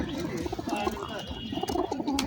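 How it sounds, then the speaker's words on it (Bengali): Pigeons coo repeatedly at a busy weekly Friday pigeon market in a Khulna village, soft throaty calls overlapping close by while someone talks over them. "সাপ্তাহিক শুক্রবার কবুতরের হাট"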